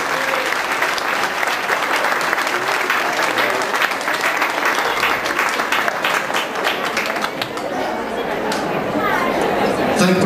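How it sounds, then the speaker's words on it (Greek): Sustained applause from an audience at a parish tea event, welcoming a women's church choir on its first appearance; dense, steady clapping fills the whole stretch, with some crowd chatter mixed in. "Για πρώτη παρουσία της χοροδίας το χειροκρότημα δεν είναι αρκετό"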